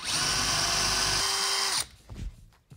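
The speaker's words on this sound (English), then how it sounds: "Line it up in the center of that hole I just drilled, and then go deeper back into that wood framing" A power drill bores into a bathroom wall and the wood framing behind it, a loud close whine running steadily for nearly two seconds, dipping in pitch midway, then stopping abruptly, followed by a few soft handling knocks.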